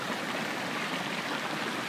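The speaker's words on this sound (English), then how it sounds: "this is sulfuric acid and water boiling up" Sulfuric acid and water boiling up in a small, very active volcanic sulfur pipe, a dense continuous hiss and bubbling rush like a fast stream, steady and close with no talking.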